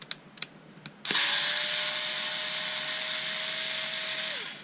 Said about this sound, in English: So let's pull the screws.